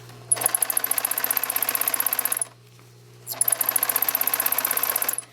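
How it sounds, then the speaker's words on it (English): A serger runs along the very edge of a jeans hem in two loud, close bursts of rapid mechanical stitching, separated by a short pause, with no talk. "I am serging right along the very edge, just as I had sewn before"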